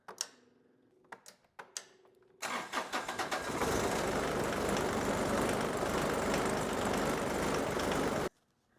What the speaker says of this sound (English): I'm gonna turn the key over to get that fuel pump pumping